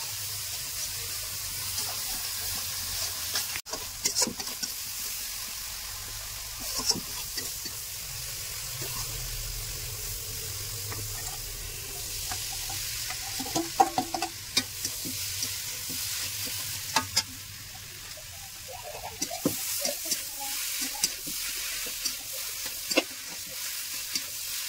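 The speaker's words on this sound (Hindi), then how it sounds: "मसाला अभी पका रही है ना" Masala cooking in a pan: a continuous low sizzle with scattered scrapes and clicks of stirring, close and moderately loud, no talk over it.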